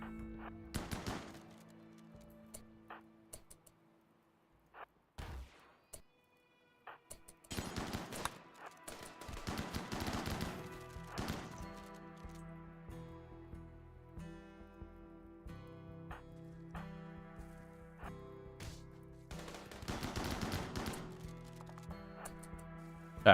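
Gunfire in the RimWorld: Odyssey video game comes as bursts of rapid shots and longer volleys, with brief pauses between the clusters. It is loud and sharp, and no one speaks over it.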